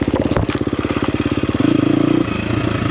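A 2024 KTM 350XCF Factory Edition motorcycle being ridden, its single-cylinder engine thumping in a rapid, loud pulsing beat that rises in pitch, then a brief higher rev before settling, close up.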